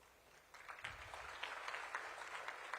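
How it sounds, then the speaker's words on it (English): An audience at a biotechnology summit event at Science City, Ahmedabad claps, a faint, distant patter of applause that swells after a quiet start and continues steadily. "You can applaud more because this is just a mark of beginning."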